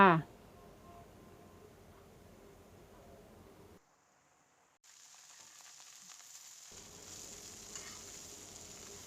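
Soft, steady sizzle and rustle of insects dry-roasting with lemongrass and kaffir lime leaves in a pan, faint and continuous with a brief silent gap partway through.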